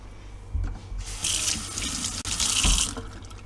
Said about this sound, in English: I'm gonna wash off my thumb.